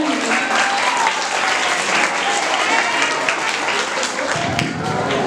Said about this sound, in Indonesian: Kasih tepuk tangannya dong teman-teman.